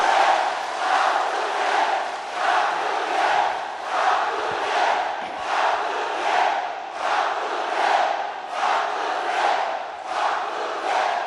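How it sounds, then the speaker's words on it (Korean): A large crowd at a 2007 Grand National Party joint campaign rally in Gyeonggi welcomes a candidate with sustained cheering and applause. The sound rises and falls in steady pulses and is heard at a distance, with no talk over it. "힘찬 박수로 맞이해 주십시오"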